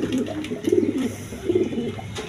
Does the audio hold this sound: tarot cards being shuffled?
no